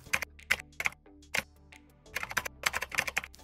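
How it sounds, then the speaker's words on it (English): Keystrokes on a computer keyboard, typed while working in Cinema 4D: a handful of sharp, close clicks in small irregular bursts, then a quick run of faster taps, with no talking. "I can simply press Shift and letter C on my keyboard, search for Axis Center"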